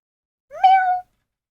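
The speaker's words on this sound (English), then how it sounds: "It's a cat." A single cat meow rising then holding steady, clear and fairly close, about half a second long and heard alone with silence around it.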